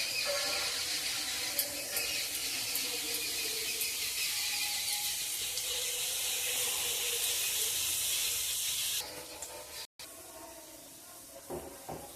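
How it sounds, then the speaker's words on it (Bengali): Grated sweet potato dough strands for sitabhog deep-fry in hot oil, a loud, even high-pitched hiss and bubbling held steady for several seconds before dropping away, with a few light clinks near the end. "এবার আমি সীতাভোগের ঝুরি ভাজাগুলো ভেজে নেব"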